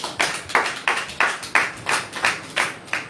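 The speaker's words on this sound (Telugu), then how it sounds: "ఎట్టి చప్పట్లు కొట్టండి." An audience claps in slow, even unison, about ten sharp claps in a steady beat, fairly close, with no voices over them.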